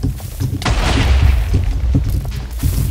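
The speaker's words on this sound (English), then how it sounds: "Don't we have antenna cannon set up? Just tell me how to fire it." Cannon firing and exploding in the Overcast Network Minecraft game, a series of heavy booming blasts and rumbling thuds in quick succession, loud and close.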